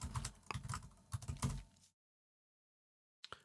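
Quick clicking keystrokes on a computer keyboard, a close burst of typing that stops abruptly into silence, then one last tap.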